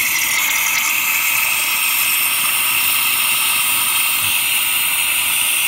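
Water and compressed air blast out of the drain valve on a Campbell Hausfeld 60-gallon air compressor tank. The result is a loud, steady, close hiss that holds unbroken throughout.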